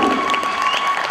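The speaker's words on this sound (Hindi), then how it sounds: "रणबीर, इनके दोस्तों के लिए भी तालियां।" An audience at a student theatre workshop play claps steadily after a performance, a brief burst of mid-distance applause under a faint steady tone, with no clear talk over it.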